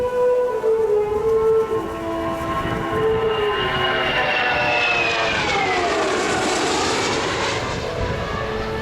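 Military jet flying its final display pass at an air show, a loud engine roar with a rising then falling whine as it sweeps past close by, steady and continuous.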